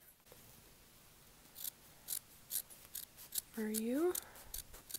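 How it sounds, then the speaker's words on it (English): Scissors snipping through tiger-print fabric up close, with a few sharp cuts followed by a longer crunching slice, while a soft voice speaks briefly over the cutting. "I'm just going to cut some"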